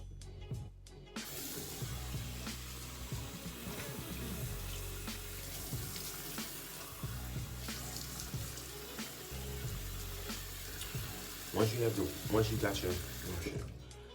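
Hot water runs steadily from a bathroom tap for face washing, a continuous splashing hiss under occasional speech, with brief hand-splash bursts near the end.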